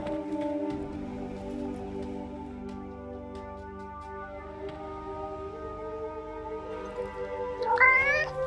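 A cat in the video game Forspoken gives a short meow near the end, over sustained tonal game music and ambient town sound.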